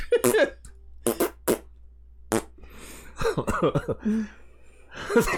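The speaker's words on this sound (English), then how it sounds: "Machine gun farts as I run on by" Rapid machine-gun style fart sound effects, a series of sharp sputtering bursts mixed in among sung and spoken voices, close and fairly loud.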